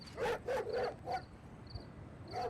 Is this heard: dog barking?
yes